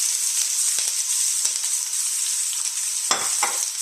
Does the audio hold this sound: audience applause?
no